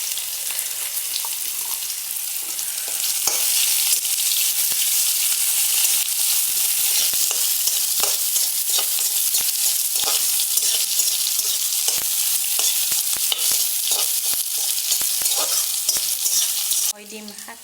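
Soybean chunks fry in a hot pan with a continuous bright sizzle, punctuated by repeated scraping and clattering stirs, running steadily before cutting off abruptly near the end.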